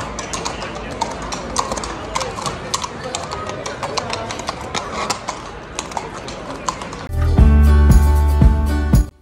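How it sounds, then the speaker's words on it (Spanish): Horses clip-clop along a street in Madrid, a run of sharp hoof taps heard at a moderate distance over background street noise, before a louder burst of other sound takes over near the end. "acompañado de los caballos"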